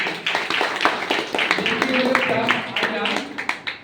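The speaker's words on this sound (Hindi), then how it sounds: "सबके लिए एक बार जोरदार ताली" An audience at a seminar in Ahmedabad claps for the grade gurus, a dense run of hand claps under a speaker's voice.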